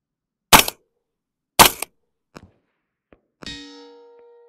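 A 6mm ARC rifle fires two shots, loud and sharp and less than a second apart. Faint clicks follow, then a ringing metallic clang as a steel target is hit, decaying slowly. No voices are heard.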